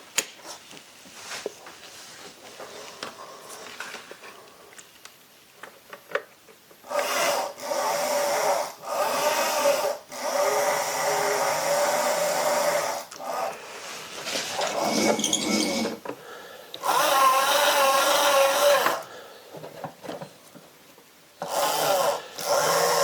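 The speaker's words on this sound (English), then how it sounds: "And that's the motor working." An Armortek brushless motor in a 1/6 scale Panzer IV motion pack runs in several bursts on a bench, a gritty whirring hum that starts and stops repeatedly between quiet pauses.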